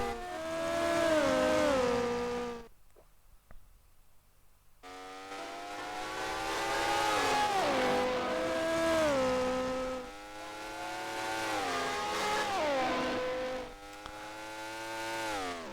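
Grand Prix Legends racing car on the 1960s-style Monaco street circuit, its engine loud and close, revving up and down through gear changes with a brief lift-off near the start, then repeated climbing whines and shifts.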